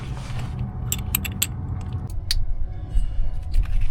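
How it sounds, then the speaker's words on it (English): Screws are driven in to hold an injector harness on a Detroit 60 Series diesel engine, giving a short, close burst of metallic clicks and ratcheting over a low background hum. "now let's put in these two screws over here that hold this thing in place"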